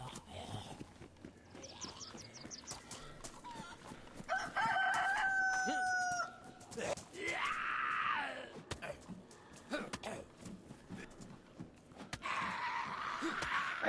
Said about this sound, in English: I hate to say it, but we might just cook that chicken right here.